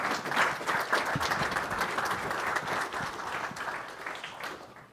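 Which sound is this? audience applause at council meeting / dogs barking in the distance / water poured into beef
audience applause at council meeting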